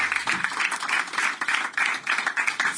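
A comedy show audience applauds in a steady burst of dense, rapid hand clapping that continues throughout, close and fairly loud with no break.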